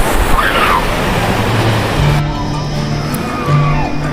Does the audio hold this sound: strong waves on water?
yes